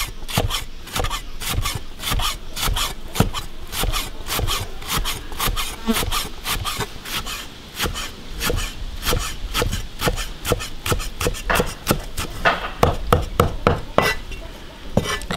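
A knife chops salted preserved vegetables on a wooden board in rapid, steady taps, close and crisp, continuing without a break for about fifteen seconds.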